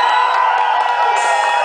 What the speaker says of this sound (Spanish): Número 3, aplausos.